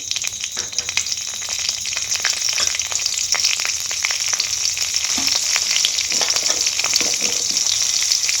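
Cinnamon, cardamom, green chilies and panch phoron spices fry in hot oil in a pan, a loud, dense, crackling sizzle that stays steady throughout with no voices.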